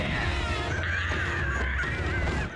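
A crow caws in an animated show, a few harsh, raspy calls over a busy soundtrack bed, fairly close and loud for about two seconds.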